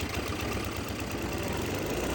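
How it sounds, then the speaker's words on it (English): Small vintage Ferrari go-kart engine running steadily just after a repair, a continuous close, rough idle with low mechanical rumble and faint knocking throughout, no voices. "We got the engine running, so now let's get everything else working."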